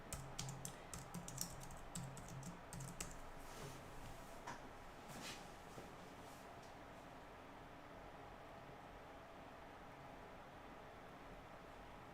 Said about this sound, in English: I think it's mainly the typing.